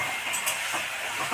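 Soft sizzle of Bengali spice paste (masala) frying in a pan while being stirred for a rohu fish curry, a steady hiss with faint scraping strokes, no voices.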